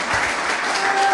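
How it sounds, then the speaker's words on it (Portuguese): A church congregation claps together during a service, a dense, steady burst of close, loud applause with no voices over it. "Dá uma salva de palmas para Jesus."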